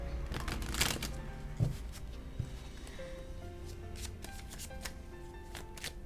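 Tarot cards being shuffled by hand, a steady papery riffling and flicking that runs the whole time with a few sharper snaps, close and fairly quiet with no talking.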